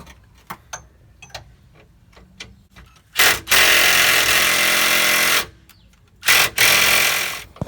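A power tool runs hard on a rusty bolt through a fuel tank strap bracket of a 2005 Lexus GX 470, with a few clicks and then two loud bursts, one long and one short.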